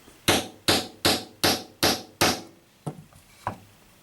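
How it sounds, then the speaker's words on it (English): A hammer taps a metal rivet set into leather, eight crisp evenly spaced strikes nearby, the first six firm and the last two lighter, with no talking. "I'm going to tap it real light a couple more times just to make sure that everything's in place"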